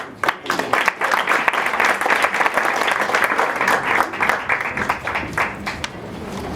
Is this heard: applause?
yes